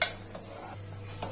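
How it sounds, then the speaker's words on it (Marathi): Gentle stirring of mackerel curry in a cooking pot, heard as a few soft, spaced utensil scrapes and light clinks over a steady low kitchen hum, quiet overall. "आणि हलक्या हाताने मिक्स करायचं"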